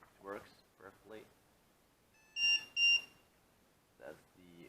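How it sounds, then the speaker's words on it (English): Electronic buzzer sounding after an XT60 plug is connected, two short loud tonal beeps in quick succession, with someone talking before and after. "That's the buzzer."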